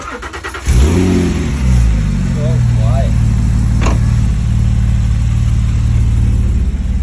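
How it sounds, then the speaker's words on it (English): A car engine with an Inconel exhaust fires up with a loud rev, then settles into a steady, throaty rumble close by, with a brief higher rev partway through. "fire this up. You got an Inconel exhaust."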